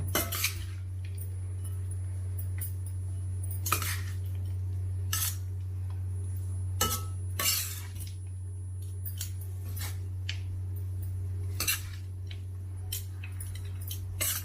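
Cooked rice being mixed by hand or spoon with a sour raw mango seasoning for Karnataka-style mango chitranna, giving soft scraping and clinking taps against a dish, irregular and close, over a steady low hum with no talking.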